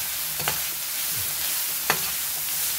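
Steak frying in butter in a pan, a steady close sizzle broken by two short louder clatters of the pan or utensil, no voices.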